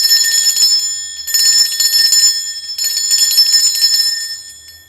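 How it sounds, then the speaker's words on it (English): A handheld bell is rung to cleanse a space, bright metallic ringing in three rapid bursts separated by brief pauses, loud and close with no one talking. "I am going to be ringing a bell."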